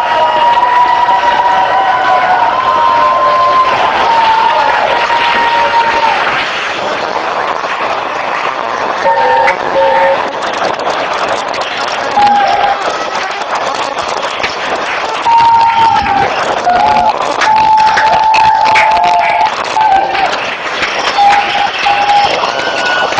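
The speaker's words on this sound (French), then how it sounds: "faire un gros torrent d'applaudissements pour tous les acteurs, tous les gens qui ont travaillé" Audience at a theatre festival applauding the actors, a sustained dense clapping and cheering crowd with shouts and whistles throughout, loud and continuous.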